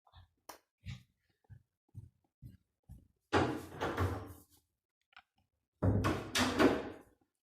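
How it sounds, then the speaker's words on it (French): A door being shut nearby: a run of soft knocks and clicks, then two longer scraping, rushing sweeps, moderately loud. "je ferme la porte après"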